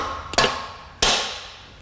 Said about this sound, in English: A little bit of the magic hammer put it in place